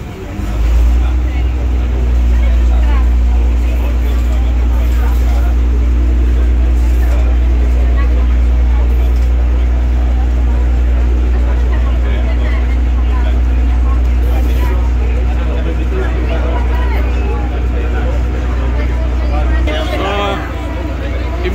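A crowded public water bus motors along a canal in Venice toward Piazza San Marco, a loud low engine drone under constant chatter of many passengers.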